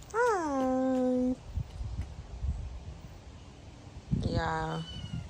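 A small rescued kitten meows twice outdoors, close and loud, with a long falling cry followed after a pause by a shorter one, soft background noise between them.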